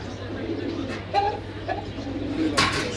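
Pigeons coo softly at a busy pigeon market in Jinjira, short low warbling calls heard amid crowd murmur and nearby voices.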